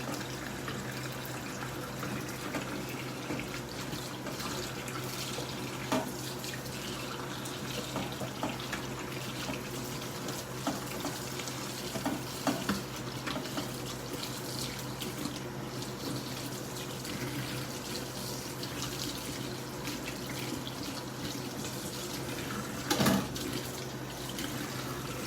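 Tap water runs steadily into a kitchen sink, carrying vegetable peels down the drain, with a continuous rushing flow and a few small knocks and clatters throughout.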